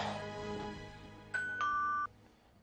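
A doorbell rings late at night in a home, two clear electronic ding-dong tones sounding one after the other over faint background noise, then cutting off.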